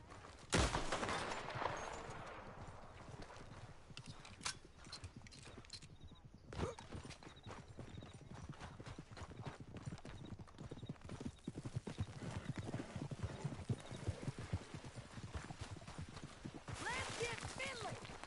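Horse hooves galloping in a PS4 video game, rapid rhythmic clip-clop running continuously with a whinny, scattered gunfire bursts and players talking over the action.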